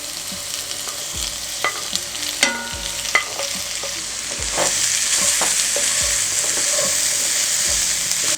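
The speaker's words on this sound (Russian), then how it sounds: "Обратно в сковороду возвращаю кусочки баранины" Lamb pieces return to a hot frying pan for an English lamb stew, giving a steady close sizzle that grows louder partway through, with scraping clicks and knocks from stirring.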